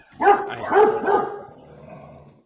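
Three quick, close dog barks in a row, followed by a softer trailing whine as the sound tapers off.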